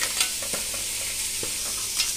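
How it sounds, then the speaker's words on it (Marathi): Continuous hiss and crackle of tomatoes sautéing in a hot pan, with a few soft utensil taps; close and steady, no voices. "टमाटर पण आपण 2 मिनिटं चांगलं परतून घेऊयात"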